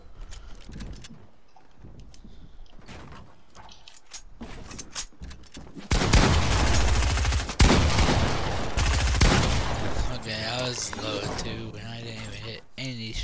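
Gunfire in a 1v1 video game match, with scattered shots early on, then dense loud rapid bursts and mechanical clatter, while someone talks over parts of it.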